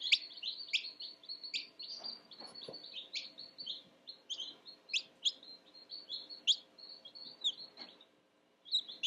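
Newly hatched baby chicks peep in quick, high, repeated chirps, several birds calling close by in an irregular stream, with soft rustling in between and a short pause near the end.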